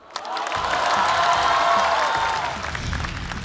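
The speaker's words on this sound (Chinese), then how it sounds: "掌声有请宋万博" A studio audience at a stand-up comedy show bursts into loud applause and cheering to welcome comedian Song Wanbo, swelling quickly and holding for a few seconds before easing slightly.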